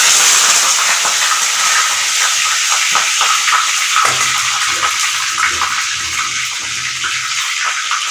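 Washed bay leaves sizzle with white cumin in hot oil for a Bengali tempering, a loud, steady, close hiss of frying that carries on unbroken with no talking.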